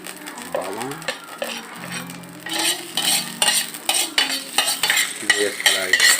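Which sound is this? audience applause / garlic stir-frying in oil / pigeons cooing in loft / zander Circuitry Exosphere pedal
garlic stir-frying in oil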